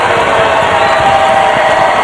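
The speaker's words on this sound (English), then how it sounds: "The crowd into it." Basketball arena crowd at a college game between UTSA and Old Dominion, roaring and cheering steadily at full volume with no break, a dense wall of voices across the whole stretch.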